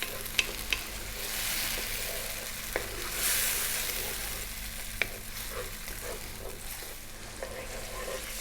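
Onions and tomatoes fry over slightly below medium heat in a pan, a steady soft sizzle broken by occasional clicks and scrapes of a spoon stirring, close and fairly quiet, with no talking.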